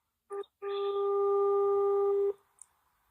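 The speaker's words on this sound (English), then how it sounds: "It's just ringing." A phone call rings out: a brief electronic blip, then one long, steady ringing tone that cuts off, heard alone at moderate volume.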